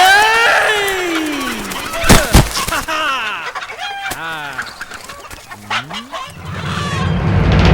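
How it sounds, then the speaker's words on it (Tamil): A chicken squawks and clucks loudly in a comedy scene, with harsh, agitated cries and a honking tone, mixed with shouting voices and commotion. "தங்கச்சி ஆசையா வளர்த்த கோழி"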